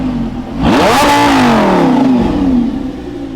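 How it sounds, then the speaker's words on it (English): A parked Lamborghini's engine given one big rev: a quick idle, then a loud close blip that sweeps sharply upward and slowly winds back down. "Wow, that was a big rev."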